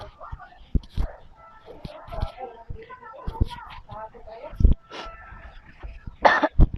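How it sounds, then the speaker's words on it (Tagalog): A person coughs a few times in short bursts amid quiet talking and breathy whispering close to the microphone, with a louder harsh cough near the end. "May ubo ko ngayon eh. Sobrang ano talaga ng ubo ko."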